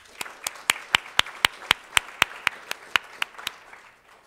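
About fifteen sharp, evenly spaced claps in a steady rhythm, fairly close and moderately loud, with no voices.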